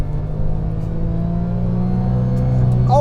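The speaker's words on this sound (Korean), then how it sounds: "자, 일단 7800 RPM 돌리기." A Porsche 911 engine is held at high revs, a steady, loud droning whine that climbs slightly near the end.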